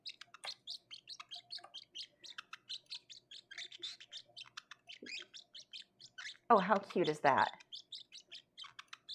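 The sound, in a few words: baby bird chirping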